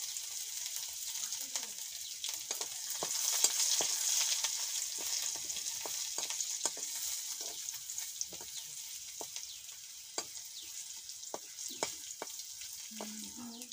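Garlic tempering in a small amount of oil, cooked for a Bengali water hyacinth greens dish, sizzling and crackling steadily near the mic with sharp pops and occasional stirring scrapes, with no voices over it.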